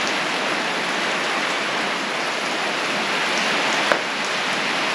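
Steady, heavy rain falling outdoors at an old cottage during chimney work, a dense unbroken hiss that fills the whole stretch, with one faint knock partway through and no talking.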